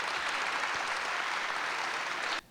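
Audience in a hall applauds steadily and densely for about two and a half seconds, then the clapping cuts off abruptly.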